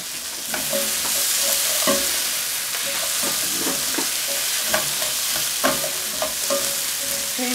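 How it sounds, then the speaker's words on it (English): Pumpkin with salt sautés in a hot pan, a steady loud sizzle with frequent scraping and clacking as a utensil stirs the pieces around, close up and without talk. "Okay, we just saute that for about 2 minutes or so."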